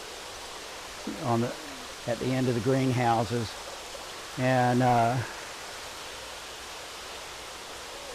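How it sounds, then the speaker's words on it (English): Excess water from a roughly 35,000-gallon tank system at a greenhouse flowing out into a wetland, a steady broad rushing stream under a man's speech. "And excess water flows out into a wetland"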